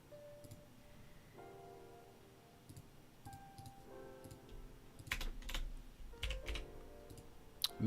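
Scattered keystrokes tap on a computer keyboard in short bursts, fairly quiet, with a denser cluster of louder clicks toward the end and faint electronic tones in the background.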